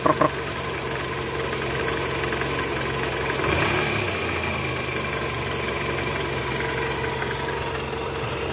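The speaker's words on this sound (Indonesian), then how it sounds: "Nah, ini ada sedikit kedengar bunyi krok krok krok krok krok krok krok krok krok." Toyota 2AZ 2400 cc engine with a worn balancer shaft idling, steady rough running with a faint rhythmic knock under the drone, close and continuous throughout.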